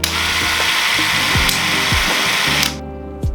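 A fully mechanical wind-up Eumig C16 16mm film camera from 1956 running its clockwork drive: a loud, close, steady whirring ratchet with repeating mechanical clicks that stops abruptly near the end.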